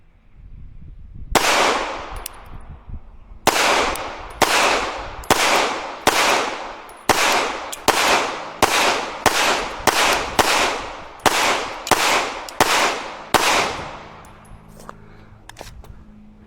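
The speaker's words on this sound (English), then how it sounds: "so we'll do another 15 shots. We'll go a little faster this time." A CZ Shadow 2 Carry pistol fired at a shooting range: fifteen sharp, loud gunshots in a steady, fairly quick rhythm, each ringing out briefly, with no talking.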